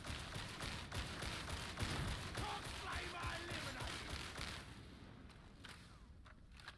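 Rapid volley fire from a starting-gun rifle in Warhammer 40K Darktide, aimed at level 3 opponents. The shots crack in quick succession over a dense, noisy game mix, steady for about five seconds before thinning out.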